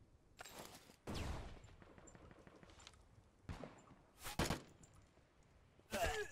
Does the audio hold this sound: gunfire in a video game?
yes